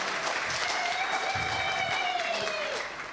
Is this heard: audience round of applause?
yes